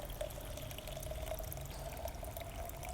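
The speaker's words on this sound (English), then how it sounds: "all I'm gonna do is I'm gonna pour some water in there." Water is poured into the soil of a milk jug planter, producing a faint, steady trickling pour with a thin ringing tone, quiet and close.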